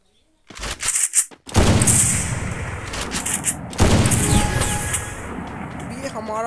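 Gunfire in a Free Fire match including AWM sniper rifle shots: loud bursts of shooting with booming reports, a brief gap, then sustained dense firing and impacts continuing through, with heavy game effects close up.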